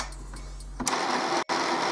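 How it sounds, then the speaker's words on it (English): An Epson Expression Home XP-442/XP-445 inkjet printer whirs steadily during a printhead cleaning cycle, then shifts to a louder, busier mechanical churning with a brief clunk and pause partway through. "this will take the printer just a minute and make all kinds of whirring and clanking noises"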